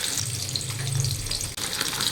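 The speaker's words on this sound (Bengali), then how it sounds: "মাছগুলোকে সব ভেজে নিচ্ছি" Pieces of rohu fish fry in oil, giving a soft, fairly quiet sizzle with a watery bubbling edge and a brief dropout near the end, no speech.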